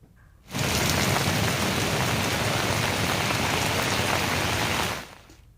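Heavy rain pouring down on streets in Valsad district, a dense, loud, steady hiss that swells in and then fades out at the end.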